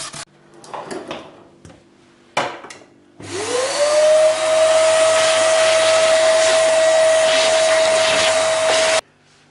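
A power drill bores holes into the edge of an old round wooden dining table: a few short knocks, then a loud steady whine that spins up and holds for about six seconds before stopping abruptly.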